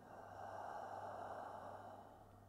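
A slow, gentle exhale through an open mouth during a guided yoga session, a soft, steady breath of about two seconds, heard quietly on its own.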